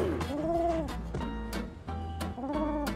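Cooing pigeon in BUM Simulator, a steady looping coo with rising-falling tones repeating several times over a constant low game ambience, close and fairly loud, with sharp clicks in between.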